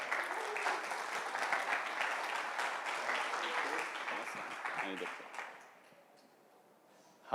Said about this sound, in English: So please give a round of applause.